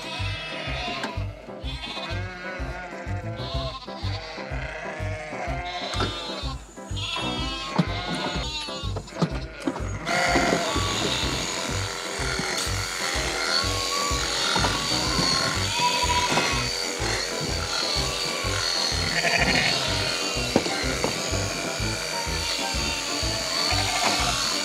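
Lambs bleat repeatedly while being vaccinated on a farm, overlapping cries near and far over a steady rumbling engine or machine drone that runs throughout.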